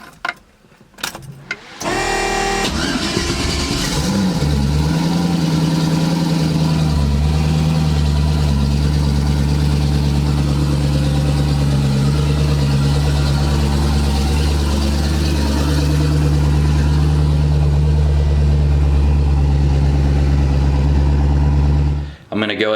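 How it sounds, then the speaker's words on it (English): A Mazda RX-7 engine cranks briefly, fires up and settles into a loud, steady idle close by, continuing for about twenty seconds before cutting off abruptly. "So, about to fire up the RX-7."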